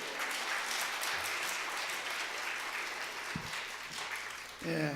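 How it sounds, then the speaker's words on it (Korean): A church congregation at a Sunday evening service applauds loudly and steadily, a dense wash of clapping that fills the room throughout, rising briefly near the end. "여러분 열렬한 박수와 함께 환영해 주시기 바랍니다."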